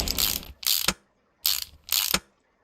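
A ratchet in the car repair game Car Mechanic Simulator 2018 clicks through four quick bursts in two pairs, loud and close, with no other sound around it.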